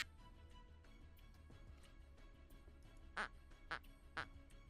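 A duck quack sound effect in a Call of Cthulhu tabletop session, three short, bright quacks in quick succession near the end, faint and under low background noise.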